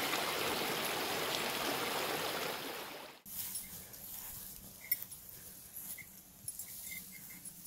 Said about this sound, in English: Super pretty little stream here.